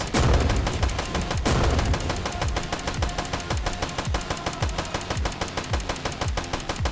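Rapid automatic gunfire in the video game Midnight Fight Express, a fast even burst of loud repeated shots that runs on continuously, close and punchy.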